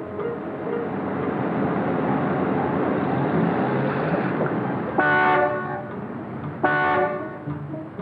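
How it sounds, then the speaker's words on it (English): Two loud car horn blasts, one after the other, sound over the steady rumble of a heavy traffic jam. "Will you stop honking, Mac?"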